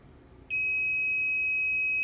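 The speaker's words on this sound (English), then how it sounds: "It can beep because it has continuity mode here." A digital multimeter in continuity mode, probing fuses on a hard drive PCB, gives a loud, steady electronic beep that starts abruptly and holds unbroken to the end.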